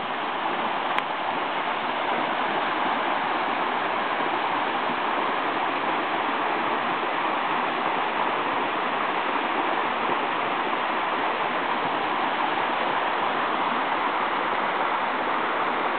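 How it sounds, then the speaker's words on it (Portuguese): A waterfall pours in a steady, dense rush of white noise that holds at an even level from start to finish, with no voices. "A cachoeira. Cachoeira lá."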